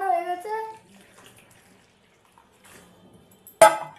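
Water is poured into a bowl of sattu (gram flour) batter for pakoras, a short splashing burst near the end, preceded by a voice and a quiet stretch.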